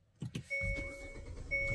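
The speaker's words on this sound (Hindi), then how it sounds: "सेकंड सेल्फ में स्टार्ट हो गई" A Hyundai Venue SX petrol car, a 2023 model, is started: a couple of short cranking bursts, then the engine catches and settles into a steady, close idle with a thin whine over it, with no talk.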